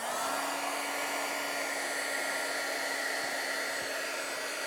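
A handheld crafting heat tool blows hot air in a steady, close, whooshing hum with a faint whine, unbroken for several seconds with no voices.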